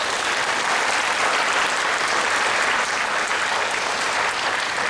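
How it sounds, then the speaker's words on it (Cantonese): Loud, dense audience applause for kindergarten teachers at a school talent show, sustained evenly throughout without pause. "我都希望借各位掌聲獻給辛勤工作嘅每一位老師"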